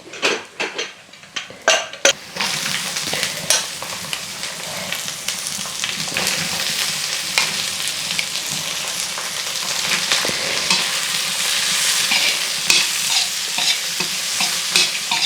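Cooked lentils are stir-fried with mustard seeds and turmeric in a pan, with a constant sizzle under repeated scraping and clinking of a spoon against the metal, loud and close throughout.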